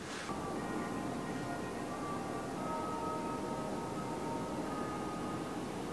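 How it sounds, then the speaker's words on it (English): Faint church bells ring in the distance beneath a steady background hum, their tones lingering and overlapping. "I can hear church bell rings."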